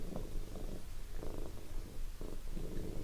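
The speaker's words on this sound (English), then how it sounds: "If you hear a cat purring right now" A cat purrs close up, a soft low rumbling in a slow rhythm of in and out breaths, quiet and steady.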